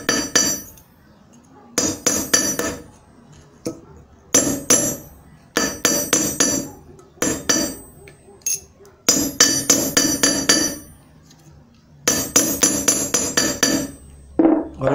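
A hammer strikes a metal sheet laid on a piece of steel rail, sharp ringing blows in quick bursts of several hits separated by short pauses, loud and close.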